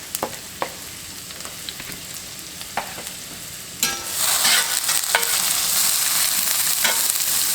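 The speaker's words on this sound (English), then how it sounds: "we'll let those saute for, just a couple of minutes" Raw vegetables sauté in a pan for corned beef hash, a few utensil clicks at first, then a bright, steady sizzle that rises and holds with occasional stirring scrapes.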